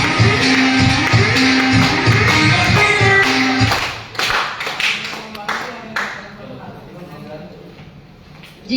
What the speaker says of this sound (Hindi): ताली चाहिए, ताली